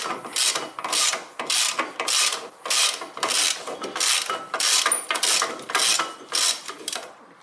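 Ratchet wrench loosening a bolt on a Toyota Corolla front brake, repeated rhythmic clicking strokes, about a dozen evenly spaced, close and clear with no talking.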